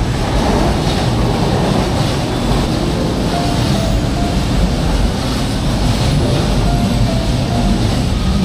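A light rail train runs steadily with a loud, continuous low rumble and rolling rail noise throughout, no voices over it.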